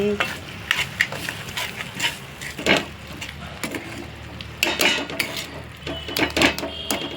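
Soybean curry sizzles in a pan while a utensil stirs and scrapes it, a close, uneven mix of frying hiss and repeated scraping knocks with no talking.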